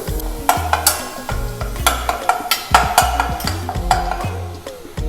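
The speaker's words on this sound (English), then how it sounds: "we will cook this meat for some time" Lamb mince sizzles and fries in a pan while being stirred, with repeated scraping strokes over a steady crackle, close and fairly loud, no voices.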